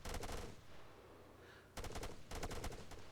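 Rapid automatic gunfire in the war video game Arma 3 rattles in dense bursts, a long string of shots, a brief lull, then two more hammering bursts, all loud and close.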